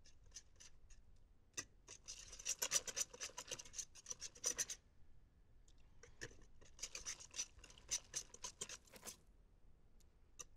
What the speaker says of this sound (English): it's a perfect opportunity to infuse some flavor, the zest from a blood orange